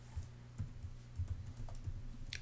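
Someone typing code on a computer keyboard, a short run of soft, muffled keystrokes in an irregular rhythm, close by and fairly quiet, with no talk.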